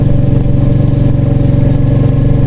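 A motorbike engine labours up a steep climb off the main road, a loud, continuous mid-pitched drone that holds steady throughout with no voices.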